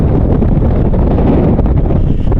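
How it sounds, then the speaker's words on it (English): Strong wind buffets the microphone on an exposed fell summit during a hill run, a steady loud roar and rumble with no talking. "Windy up here."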